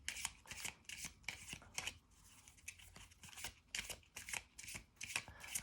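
Oracle cards are shuffled and drawn by hand in close, crisp bursts of riffling and sliding, about a dozen quick flurries separated by brief pauses, with no talk.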